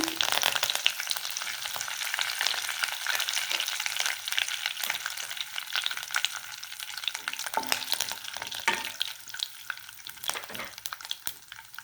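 Curry leaves spit and crackle in hot oil with popping mustard seeds for an egg masala tempering, a loud close sizzle full of sharp pops and spatters throughout.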